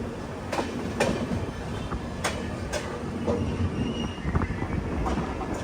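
A train pulls into platform 1 at Kannur railway station, its wheels rumbling steadily. Sharp clacks sound now and then over the tracks, with faint squeals and station noise around it.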